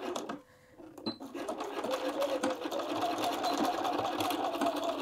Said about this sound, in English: we're going to just sew right off the edge of our binding